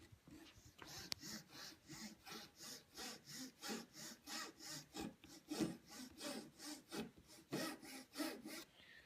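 A jeweler's saw cuts wood for a Chippendale chimney piece, quiet close rasping strokes in a steady back-and-forth rhythm, about a dozen passes.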